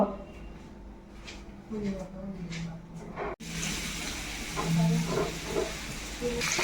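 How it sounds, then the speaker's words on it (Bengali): Jackfruit dumplings frying in oil in a wok over low heat, a steady hissing sizzle that grows louder and fuller midway, with a person talking over it. "তো কড়াতে তেল দিয়ে তারপর দিয়ে দিলাম আর এখানে অল্প আঁচে ভাজতে হবে।"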